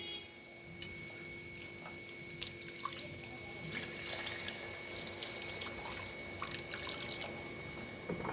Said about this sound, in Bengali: এখন জল দেব